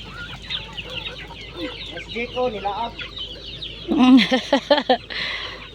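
Native and Red Island chickens on a rural farm cluck and chatter close by in irregular bursts, growing louder with a flurry of squawks toward the end, with faint voices in the background.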